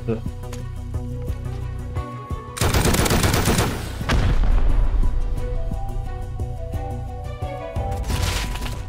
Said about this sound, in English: He's shooting so hard.